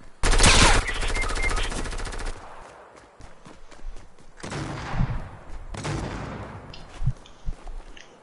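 Rapid automatic gunfire from a video game rattles loud and close in one sustained burst of about two seconds, then stops; a voice talks over quieter sounds afterward.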